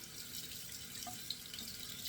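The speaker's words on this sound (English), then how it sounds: "Run this under the water a little bit again." Tap water runs steadily into a sink while a razor blade is rinsed under it, a soft continuous hiss and splash heard alone at low level for a couple of seconds.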